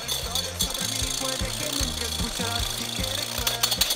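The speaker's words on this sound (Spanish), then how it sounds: "Con ayuda de 1 cucharada de azúcar, vas a blanquear las 3 yemas de huevo." Three egg yolks being beaten with a spoonful of sugar until pale, likely with an electric mixer: a steady motorized buzz that keeps shifting in pitch in short steps as the whisk works through the mixture.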